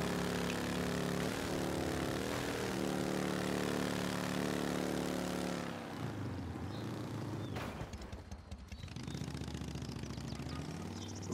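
A motorbike engine drones steadily while riding in the video game Mafia Definitive Edition, a loud sustained harmonic hum that shifts pitch as the bike accelerates and slows, with a rougher burst near the end.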